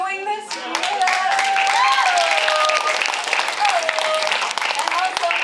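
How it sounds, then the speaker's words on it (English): An audience at a young playwrights' festival cold reading breaks into sustained, dense applause with cheering and whoops, loud and close, lasting the whole stretch, while a voice speaks over it. "Let's give you all a round of applause."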